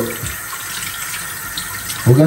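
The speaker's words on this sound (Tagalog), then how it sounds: "hugasan natin yung ating babaunin" Packed lunch food is washed under a running kitchen tap, giving a steady, close splashing stream of water. A voice briefly cuts in at the end.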